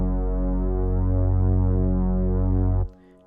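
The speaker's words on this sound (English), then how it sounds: "I'll let you hear what the bass sounds like" A stock VST synth bass with its filter cutoff turned down, playing a low, muffled, sustained line for about three seconds before it cuts off abruptly. No one speaks over it.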